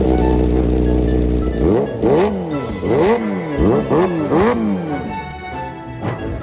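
A high-priced motorcycle fitted with a 5-million-rupiah aftermarket exhaust idles with a deep rumble, then is blipped through about six sharp, loud revs in quick succession, close to the microphone.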